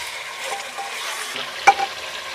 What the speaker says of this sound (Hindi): करीब 2-3 मिनट थोड़ा सा पानी डाल कर हम इसे भून लेंगे